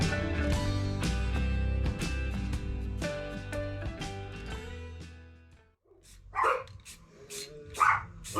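Dogs barking at a delivery driver, several sharp barks in two short bursts near the end, following loud music with strong beats, heard from somewhat close by.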